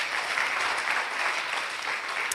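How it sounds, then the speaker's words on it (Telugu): A congregation at a Good Friday worship service claps together in a brief, steady burst of applause, close and even with no talking over it. "ఒకసారి చప్పట్లు కొట్టండి"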